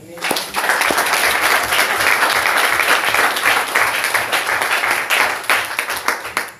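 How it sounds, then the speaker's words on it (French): A church congregation claps steadily and energetically for several seconds, a dense, loud round of applause that tapers off at the end. "Applaudissons pour le Seigneur."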